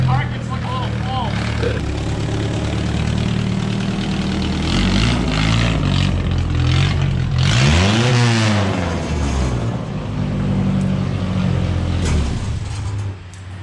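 Beat-up Datsun mini truck engine idling, then revved hard several times with rising and falling sweeps, loud and close, while people talk over it in a shop yard.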